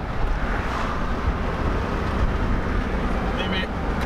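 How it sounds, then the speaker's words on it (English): Wind buffets the microphone of a moving car, a loud, constant rumbling roar with road noise underneath and no break. "You get some wind back here."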